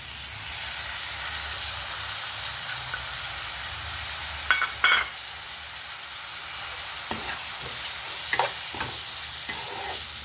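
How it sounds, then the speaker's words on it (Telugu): Soaked moong dal dropped into a pan of frying leafy greens hisses in a steady sizzle, broken by a few clinks and stirring scrapes. "మగ్గిన తర్వాత పెసరపప్పు వేసుకుందామండి. పెసరపప్పు వేస్తున్నానండి."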